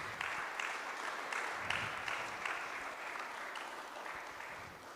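Steady audience applause at a cultural season inauguration, many hands clapping at moderate distance for about five seconds with no talk over it.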